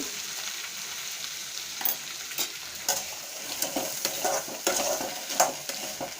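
Chickpeas stir-frying in a pan, a soft continuous sizzle broken by irregular scraping and clinking stirs that grow busier toward the end, close by with no talk.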